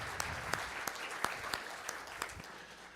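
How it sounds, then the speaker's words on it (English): Applause from a conference audience after a tech presentation, many hands clapping at moderate volume with a few sharper claps standing out, steady throughout. "let's give Evan McGee a round of applause."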